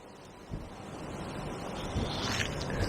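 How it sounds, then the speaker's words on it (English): Wind gusting beside a small river, a broad rushing roar across the microphone that builds gradually over a few seconds, with a couple of soft thumps of buffeting. "Gosh, wind's picking up"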